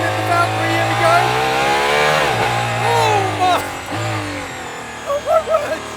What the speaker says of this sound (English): first full throttle acceleration in the Valkyrie